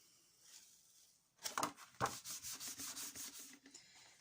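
Rubbing ink off a stamping plate with a card makes a short run of quiet, rhythmic dry scrubbing strokes, close and brief, starting after a moment of near silence.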